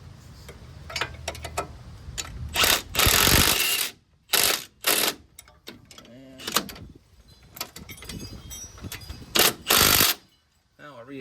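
A hand ratchet snugs up a bolt while a leveling kit goes onto a 2016 Silverado, giving close, loud bursts of quick clicking separated by short pauses.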